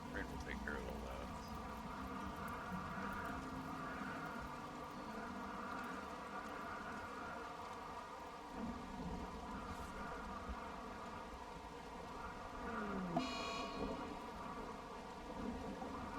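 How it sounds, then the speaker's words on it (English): Rain and thunder from the video game Rimworld play as a faint, steady wash of rainfall with low rumbles, while a person talks over it. "At least now it's raining."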